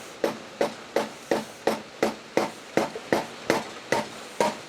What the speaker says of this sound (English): Rubber mallet. Where do you even hit the thing?